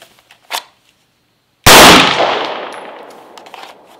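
A Glock 26 pistol fires a single loud, sharp shot after a faint click, the blast ringing out and fading slowly into a long decaying tail.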